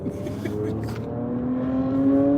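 A Ford Mustang engine revving as it drives past, a steady rising engine roar that swells louder toward the end, with no talk.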